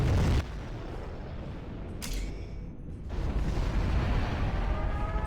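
Nuclear missile launch in a strategy video game, with a deep sustained low-frequency rumble and booming blast, a brief sharp hit partway through, and a swelling roar toward the end.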